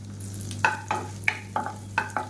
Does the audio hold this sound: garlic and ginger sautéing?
yes